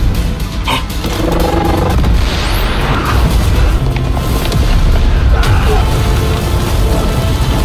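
Deep, rumbling blasts and roaring booms fill the whole stretch, loud and continuous, like explosions in a battle scene with a thick low-end rumble.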